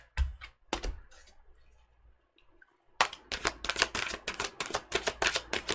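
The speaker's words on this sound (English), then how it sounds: "This might be a long shuffle." Tarot cards are shuffled close by in quick bursts, with a few sharp riffles, a quiet pause, then a long run of rapid crisp flutters and taps.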